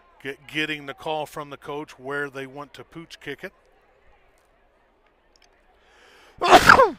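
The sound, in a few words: sneeze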